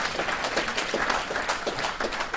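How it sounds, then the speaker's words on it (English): An audience at a Freedom Party labor-community forum in the South Bronx claps steadily, a dense, even wash of many hands throughout, fairly close and without pause. "Give yourself a big hand clap."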